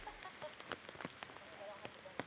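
Steady rain falling outdoors during a women's disc golf championship round, a soft continuous patter of drops, faint and diffuse with scattered louder taps.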